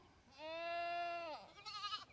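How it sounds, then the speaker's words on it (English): A young farm goat gives a single clear, drawn-out bleat close by, followed by a shorter wavering call. "All these goats were born right at the same time."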